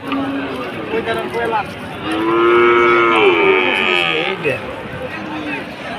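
Sahiwal cattle at a Bangladeshi livestock market low loudly in one long, drawn-out moo near the middle, with market crowd noise and people talking throughout.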